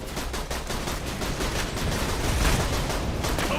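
Sustained video-game gunfire with sniper rounds, a dense, continuous barrage of shots and blasts with no clear gaps, fairly loud and busy throughout.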